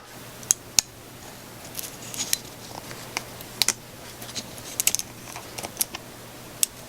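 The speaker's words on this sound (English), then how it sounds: "you'll hear the inner mechanism click and then it'll release the pin and this part will just pop right out" Small plastic-and-metal clicks from a store security tag's inner mechanism as a magnet releases the pin, scattered sharp ticks spread over several seconds, close and fairly quiet against a low steady hum.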